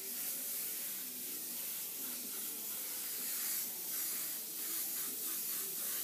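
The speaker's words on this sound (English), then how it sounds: "This is the most used stroke in airbrushing." An airbrush sprays paint onto a t-shirt in a steady, soft hiss with faint pulsing as strokes are made, close and unaccompanied by voices.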